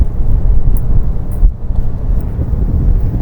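Strong wind buffets the microphone on a boat out on open water, a loud, steady low rumble with gusty surges and no voices.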